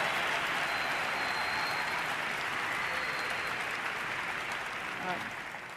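Sustained applause and cheering from a large audience at the Nansen Refugee Award ceremony, honouring Abdullahi's mother, a broad even roar of clapping that fades slightly at the end.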